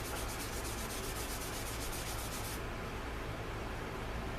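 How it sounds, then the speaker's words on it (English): A cloth rubbing top coat onto a leather holster, a steady close brushing rub that continues evenly, shifting to a duller tone partway through, with no talking. "Start buffing on the front side a little bit."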